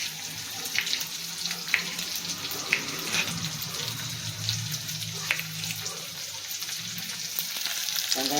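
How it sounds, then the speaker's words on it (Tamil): Tomatoes and onions sauté in a pan for a spicy sundakkai kara kuzhambu, a steady nearby sizzle broken by occasional light clicks of stirring, with no talking. "தக்காளி நல்லா வதங்கிருக்கு"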